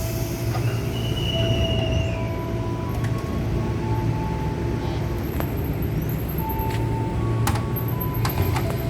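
Commuter train departing Tambun station, a loud steady rumble of wheels on rails with high squeals and short tonal whistles rising over it throughout, no voices.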